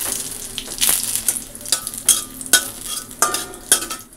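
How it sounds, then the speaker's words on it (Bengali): Dal is tempered with radhuni seeds, which sizzle sharply in hot oil with bursts of crackling and a few clinks of a utensil against the pot, close and fairly loud. "তো ডালে আজকে রাঁধুনি ফোড়ন দেব, পেঁয়াজ দেব না।"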